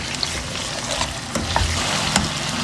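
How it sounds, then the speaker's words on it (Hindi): Masala for chicken saag frying in a pan while a spoon stirs it, a loud close sizzle throughout with intermittent scraping strokes and small clinks, no speech. "फ़िलहाल में जो मसाला डाला है ना उसे चम्मच चला के अच्छा सा भून लें।"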